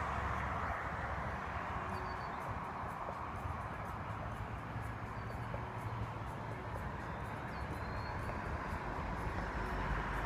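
A steady rumbling CN freight train passes at a distance on the Halton Subdivision, a continuous low roar with faint rhythmic clatter throughout.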